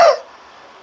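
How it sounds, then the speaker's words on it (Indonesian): A single short, close cough, abrupt and loud, fading quickly into quiet room tone. "Batuk lagi ya."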